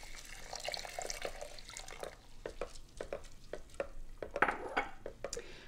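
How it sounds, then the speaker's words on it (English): Milk being stirred into jumbo oats in a saucepan, with wet sloshing and the spoon scraping and tapping against the pan in an irregular rhythm, close and moderately quiet. "pour the milk over the top of the oats and stir in really well"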